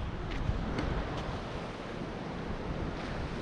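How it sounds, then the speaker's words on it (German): Ocean surf roars steadily and evenly on a New Zealand beach, a continuous wash of breaking waves with wind noise mixed in, no voices. "Und dann genießen wir noch ein bisschen das Meeresrauschen."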